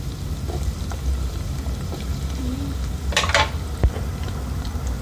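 Onions fry in half a cup of oil for achari chicken, a low even sizzle with a brief clink of a utensil against the pan midway.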